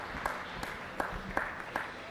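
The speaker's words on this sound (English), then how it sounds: "Give them all a round of applause." A sparse, quiet round of applause at a youth beef cattle show, with a few scattered claps at uneven intervals against a faint, distant background.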